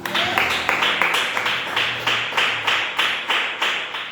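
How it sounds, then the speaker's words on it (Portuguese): Church congregation clapping in a steady, strong unison rhythm, loud and close, about three claps per second, with no talk over it. "Palmas para o Senhor Jesus."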